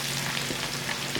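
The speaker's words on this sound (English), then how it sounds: "You just putting a little crust on the end." Beef short ribs searing in a hot pan to form a crust, a dense continuous sizzle and hiss holding steady and fairly close, with no talk.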